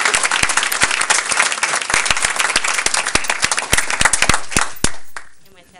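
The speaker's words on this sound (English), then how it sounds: "I would welcome a round of applause for Mrs. Smith." Audience applause at a school board of education meeting, steady broadband clapping from a room full of people that runs for several seconds, then thins out and fades near the end.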